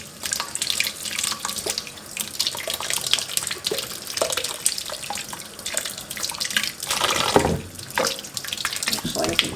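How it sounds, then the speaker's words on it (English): New potatoes rinsed under a running kitchen tap, a steady splashing water stream with rattling as they are moved about in the sink, close and continuous, with a voice briefly heard. "So I'm just going to give them a quick rinse"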